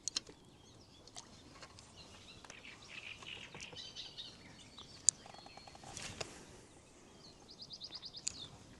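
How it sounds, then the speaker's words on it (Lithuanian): Scattered bird chirps and short calls ring out over a quiet, windless lakeshore, some sharp and close, others soft and distant. "Paukštukų visos pakrantės pilnas."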